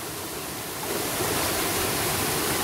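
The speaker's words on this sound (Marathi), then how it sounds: "धबधब्याच्या प्रवाहामुळे जवळजवळ 3 पुरुष म्हणजे जवळजवळ 15 ते 20 फूट खोल झालेलं आहे." A hidden waterfall in the Konkan countryside pours down into a deep pool, giving a steady, loud broadband rush that thickens slightly after the first second and never pauses.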